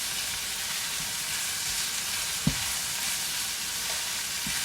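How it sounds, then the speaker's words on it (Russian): Onions fry in a pan with a steady, even sizzling hiss, close and moderately loud, broken by a single faint tap from a utensil and no talk. "Лучок жарится у нас."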